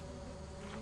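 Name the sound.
bee buzzing near a beehive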